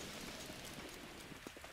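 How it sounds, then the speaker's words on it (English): Rain falls steadily in the video game The Legend of Zelda: Breath of the Wild, a soft continuous patter with a few louder drops near the end, faint overall. "Stop raining. Stop raining."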